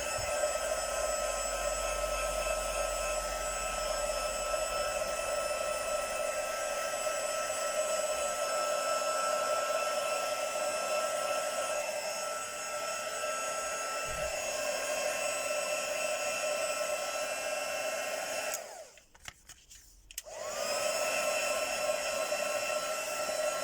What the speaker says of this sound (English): I'm just going to give it a blast with the heat gun.